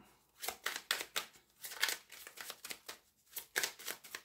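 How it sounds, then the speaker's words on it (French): Tarot cards being shuffled by hand in quick bursts of riffling and sliding strokes, several separate runs with brief pauses between them, close and fairly soft, no talking. "on va remélanger un petit peu pour répartir bien les cartes"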